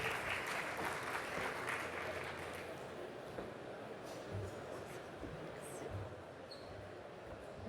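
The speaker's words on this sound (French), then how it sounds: "Sous vos applaudissements, s'il vous plaît." Conference audience applauding, a dense sustained patter of many hands clapping that stays steady and fairly loud throughout, easing off slightly toward the end, with a few faint voices mixed in.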